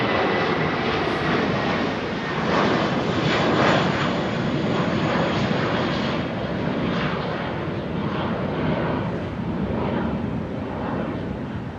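An aircraft at London Heathrow airport gives a loud, steady engine roar that swells slightly and holds without a break, with no talk over it.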